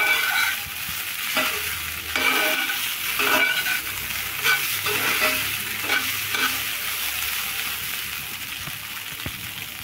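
Flattened rice (poha) stirred in a hot pan, a steady frying hiss broken by regular scraping strokes of a spoon, close and fairly loud, with no voices.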